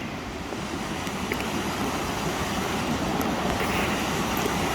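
Twin Falls waterfall at Rock Island State Park, Tennessee, heard from a kayak on the water as a broad, steady roar of falling water, loud and continuous with no voices.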